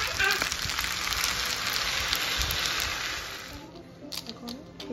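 Boiled spaghetti and fettuccine are mixed in a hot pan, giving a steady sizzling, frying hiss for several seconds that thins out and turns quieter near the end.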